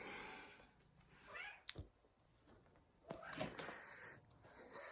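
A cat climbing on a person's back and hunting a phone, giving a few soft, close meows and small rustles at scattered moments across otherwise quiet indoor room noise.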